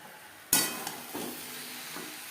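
Fried potatoes tumble into peas in a pan for alur dum with a sharp clatter, followed by a couple of softer stirring scrapes over a low, steady sizzle.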